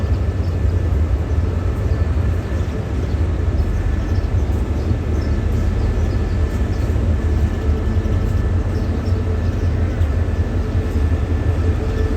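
A Thai express train rumbles steadily as it pulls into a Bangkok station, a continuous low heavy drone with faint metallic squeals above, no voices.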